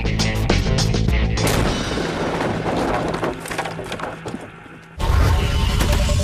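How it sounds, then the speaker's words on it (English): A SMAW shoulder-launched weapon fires a round with a countermass venting out the back, producing a massive roaring blast and crack that fades, then a second loud burst outdoors, very loud throughout. "I can fire this round with a counter mass coming out the back"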